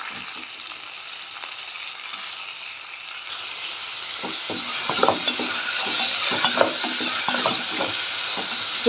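Small chopped tomatoes and ajwain leaves sizzle and fry in a pan, a steady bright crackle that grows busier as stirring scrapes and clatters through it, close and without talk.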